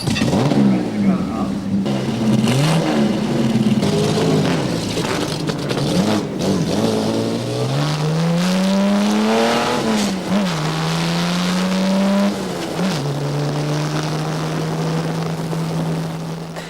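Race cars compete at the Retro 97 Basildon Grand Prix. Engines rise and fall in pitch as they accelerate and pass, with a steady drone at the end, and a voice talks over the racing noise.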